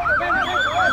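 An ambulance siren wails in a steady rising and falling cycle, loud and close, with no talk over it.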